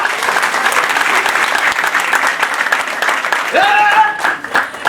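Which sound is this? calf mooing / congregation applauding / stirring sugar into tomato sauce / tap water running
congregation applauding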